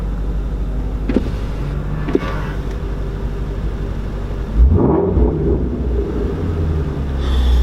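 A Shelby GT350 manual-transmission sports car engine rumbles steadily and loudly up close, with a couple of brief clicks early on and a deeper surge of revving partway through.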